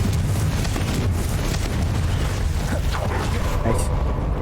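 A Confringo fire spell from Hogwarts Legacy bursts with a dense, sustained roar of explosive rumble and crackle, loud and close, filling the whole moment with layered booming impact.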